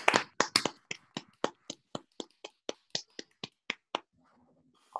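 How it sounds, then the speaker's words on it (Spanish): Hand claps ring out close and clear in a quick, slightly uneven run of about twenty sharp slaps, tailing off and ending in near silence. "Están aplaudiendo."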